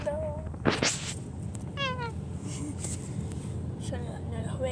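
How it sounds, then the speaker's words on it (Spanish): Kittens meow in short, high cries, a few spread across the clip, mixed with nearby chatter and background noise. "Vamos a ver a los gatitos."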